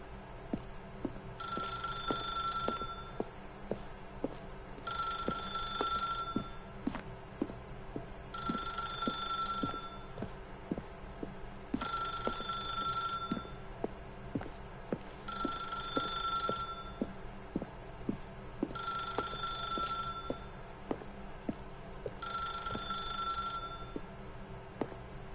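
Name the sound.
telephone bell ringing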